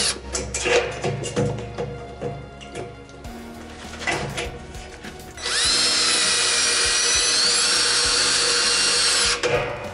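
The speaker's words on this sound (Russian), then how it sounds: "Вот теперь это мы до конца вкручиваем. Еще один саморез, дай." Cordless screwdriver drives a self-tapping screw into gypsum fibre board, a loud steady whir of several seconds after brief handling clatter and knocks.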